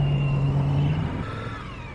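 A big engine rumbles with its tailpipe close by while riding, a steady low exhaust drone with a brief rise in pitch that then eases off, heard alone.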